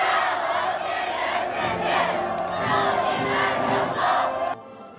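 A large crowd roars and cheers continuously at the Shenzhou-12 astronauts' departure ceremony, a dense, loud wash of voices that drops away abruptly near the end.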